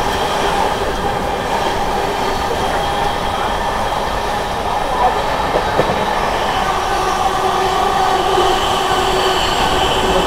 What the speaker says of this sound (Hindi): फुल स्पीड में अमृत भारत डिले कवर करने की कोशिश कर रही है